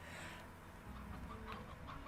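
Chickens in Slime Rancher, elderly roosters and hens kept in a ranch enclosure, give faint, scattered clucks against a soft background hum.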